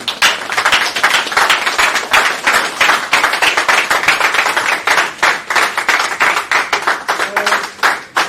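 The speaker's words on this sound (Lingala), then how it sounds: "que je vous demande d'applaudir très chaleureusement" Dense, loud applause fills a hall to greet a newly appointed Minister of Hydrocarbons, with many hands clapping steadily and unbroken for several seconds.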